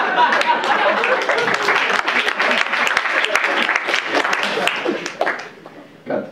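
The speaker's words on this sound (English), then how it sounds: "Got the crowd to clap for Hitler." Comedy-club audience bursting into sustained clapping with scattered cheers, loud and dense for several seconds before tapering off.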